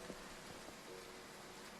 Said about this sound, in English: But suddenly we're caught in the rain and we find ourselves completely drenched.